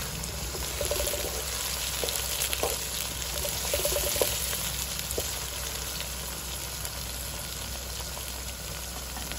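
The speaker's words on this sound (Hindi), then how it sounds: "टमाटरों को भी अच्छी तरह से फ्राई करेंगे," Tomatoes frying with onion, ginger and garlic for aloo kaddu sabzi, a faint, continuous sizzle with occasional light stirring ticks over a constant background hum, with no speech.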